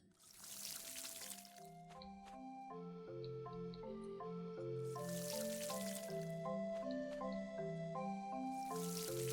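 Crops are watered in the farming game Pumpkin Days, with three soft splashing, pouring bursts spaced a few seconds apart over steady, bright melodic game music.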